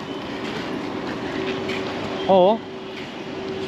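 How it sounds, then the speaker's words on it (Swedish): A train at a railway station in Chennai, its low rumble running under a brief spoken word, with a short, loud warbling horn or whistle sounding near the end. "där har vi ett tåg, Chennai Beach"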